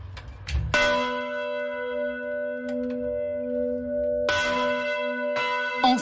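Three large church bells ring out with deep, sustained tones; the smallest, 335 kg, sounds first, and the other two, electrically driven, join near the end, their strikes overlapping and resonating loudly.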